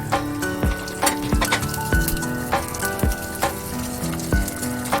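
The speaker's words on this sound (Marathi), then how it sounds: "हा कढीपत्ता आणि मोहरी टाकल्यानंतर या पद्धतीने तडतडणार आहे." Mustard seeds and curry leaves crackle in hot oil, sharp close pops and spits bursting in quick irregular succession over a soft steady sizzle.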